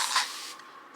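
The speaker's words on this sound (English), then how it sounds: "You can use any spray bottle or just wet your hair under the sink." A spray bottle mists water onto curly hair in short, close, airy hissing bursts, one strong spritz followed by quieter sprays, with no talking.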